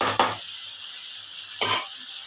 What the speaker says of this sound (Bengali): এটা এখন একটু ভাজা ভাজা হয়ে যাক